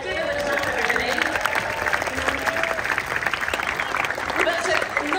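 Crowd applauding a tennis player at the Boodles exhibition event, a steady, dense patter of clapping close by, with voices talking over it throughout.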